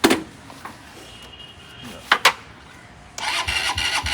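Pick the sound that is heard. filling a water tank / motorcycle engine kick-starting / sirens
motorcycle engine kick-starting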